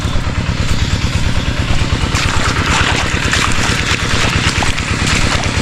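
A farm water pump engine in a rice field runs at a steady, loud, close chugging pulse, with rough clatter and wind noise layered over it.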